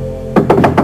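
Three quick, solid knocks on a hotel suite door sound close and loud, evenly spaced after a short hush.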